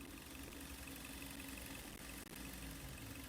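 A Hyundai Sonata petrol engine of about 2 litres idling, a steady faint hum with a slight even knock, alone and unchanging apart from a couple of brief dips.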